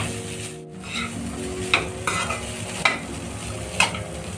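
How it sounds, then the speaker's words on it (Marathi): Cooked rice being stirred into a pan for South Indian lemon rice, with a steady low sizzle under a few distinct spoon scrapes and clinks against the metal pan, no voices. "आपण त्यात भात टाकून घेणार आहोत, चांगला मिक्स करून घेणार आहोत।"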